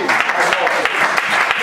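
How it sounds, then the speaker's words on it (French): A church congregation applauding, a dense burst of clapping that fills the space, loud and close, with voices mixed in. "Est-ce que nous pouvons l'applaudir?"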